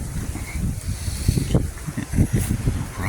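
High wind buffets outdoors in loud, rough gusts with rumbling surges, the roar swelling and easing in uneven waves.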